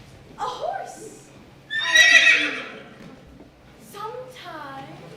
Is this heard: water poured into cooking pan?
no